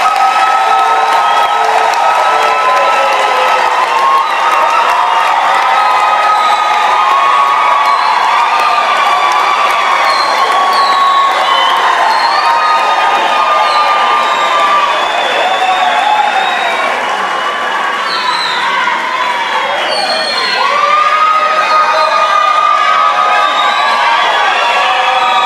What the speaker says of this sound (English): let us give the graduates a thunderous round of applause